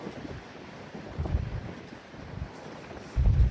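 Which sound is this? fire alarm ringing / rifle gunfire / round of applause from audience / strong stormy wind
strong stormy wind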